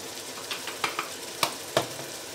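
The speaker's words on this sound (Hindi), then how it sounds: "अब इनको भूनें, मसाला हमारा भुन गया।" Spices for aloo gobi fry in a pan with a soft steady sizzle, broken by a few sharp crackles and spoon scrapes as the masala is stirred, nearby and quiet, with no voices.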